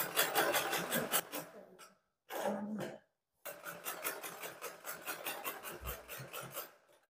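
A sewing machine runs in rapid rhythmic bursts while stitching a second seam beside the first along a petticoat hem, stopping briefly twice before whirring on steadily and fading out.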